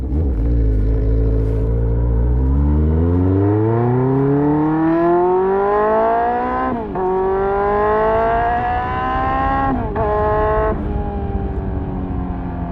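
A repaired motorcycle engine, its carburetors recently pulled, revving up steadily from idle to a high sustained whine, pitch climbing and then holding with brief dips between shifts, loud and close, with no talking.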